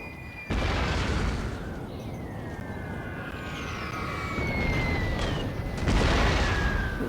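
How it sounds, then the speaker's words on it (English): Artillery fire in the video game Napoleon: Total War, a Serbian defense battle with a booming onset followed by a steady rumbling roar and several more dull blasts near the end, with faint whistling tones overhead. "You have the artillery striking."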